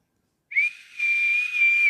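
A voice imitates a lifeguard's whistle as a feeble, breathy whistle, one steady thin tone held for about a second and a half after a brief dip, alone and fairly loud.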